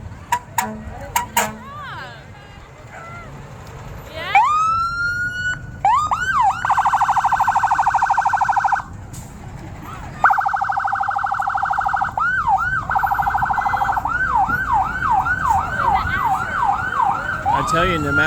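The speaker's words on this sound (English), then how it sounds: "they love those sirens and horns" Fire department trucks roll through a Christmas parade, sounding wailing and yelping sirens that rise and fall repeatedly, along with short horn blasts, loud and close, with a crowd murmuring around them.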